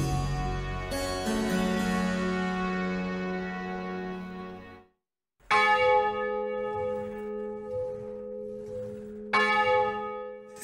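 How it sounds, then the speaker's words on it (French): The belfry bell of Amboise, a church bell hung in 1501, rings with rich sustained tones that slowly decay, then after a short gap strikes again twice with bright metallic overtones. "Je veux parler ici de la cloche du Beffroi qui, depuis 1501, rythme la vie des Amboisiens."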